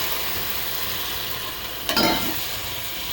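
Tomato juice poured into frying masala for a crab curry, a constant steady sizzle with a brief louder splash and crackle as the liquid hits the hot pan.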